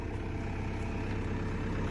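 Excavator fitted with a hydraulic breaker, its diesel engine idling with a steady, low, continuous rumble throughout.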